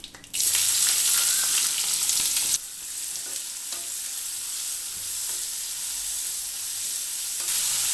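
Loud, steady sizzling of two onions frying in hot oil with fennel seeds and curry leaves, a sharp burst at the start settling into a continuous crackle.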